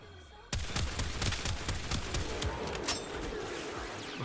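Rapid bursts from an Astilla Prime shotgun in Warframe, a dense barrage of overlapping blasts that goes on for several seconds, loud and close, with a short quiet lead-in before the firing starts.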